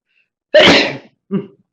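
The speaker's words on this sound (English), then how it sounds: "sorry, I'm about to sneeze." A single loud sneeze, close by, followed by a shorter, softer sniff or breath.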